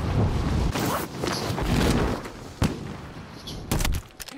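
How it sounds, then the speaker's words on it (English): Grenade launcher rounds explode in a video game as a rapid run of loud, crackling blasts, followed by a few separate sharp bangs after short pauses. "Shooting me all those damn grenade launchers."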